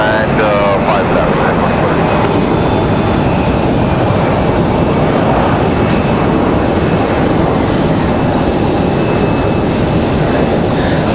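Endeavor airliner touching down on runway 5 left at Raleigh-Durham airport, a loud continuous roar of engines and rushing air filling the whole stretch, heard from nearby.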